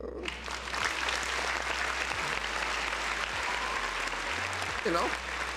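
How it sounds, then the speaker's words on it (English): Steady applause from a crowd fills the whole stretch, dense clapping with a brief whoop or cheer rising near the end. "Round of applause for myself, man."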